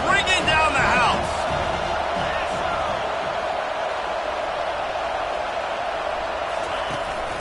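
Stadium crowd at a Colts football game roars loudly and steadily on a third-down play, a dense sustained wash of cheering with brief whoops near the start.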